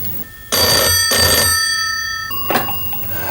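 An old-style telephone bell rings loudly in two bursts, then a sharp click as the receiver is lifted, in an office setting.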